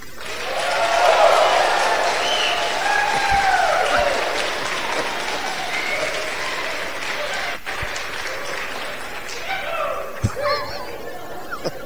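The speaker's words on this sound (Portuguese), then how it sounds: "Mas eles querem aplaudir vocês mais uma vez." Audience applause at a church event in Ceará, Brazil, a broad steady clatter of clapping from a crowd that swells early and then holds, thinning toward the end with a few scattered louder claps and faint murmurs.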